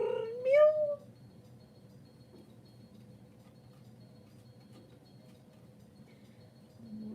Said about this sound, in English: going meow